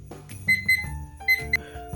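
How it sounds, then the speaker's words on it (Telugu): An oven timer being set for 45 minutes gives a quick series of short electronic beeps, close and clear, with soft kitchen handling noises between them. "45 minutesకి టైమర్ పెట్టాలి."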